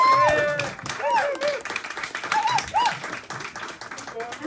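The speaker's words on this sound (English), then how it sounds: "Give him a round of applause." An audience at a signpainters' talk gives a brief round of clapping, moderately loud and uneven, mixed with a few high whistles or squeaks and fading toward the end.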